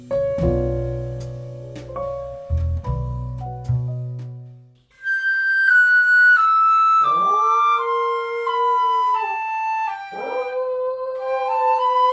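A Havanese dog howls in long, rising, wavering notes after a stretch of piano-like tones, the howls loud and close with no talking.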